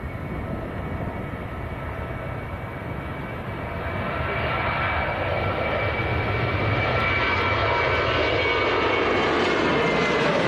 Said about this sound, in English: Air Portugal is taxiing across as well as a little Logan Air ATR and a Ryanair